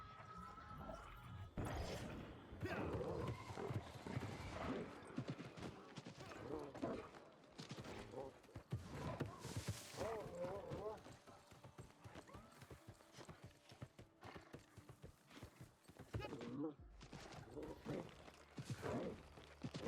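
Horse hooves clip-clop in the video game New World Aeternum, a steady run of hoofbeats with an occasional whinny, heard under game effects and someone talking over it.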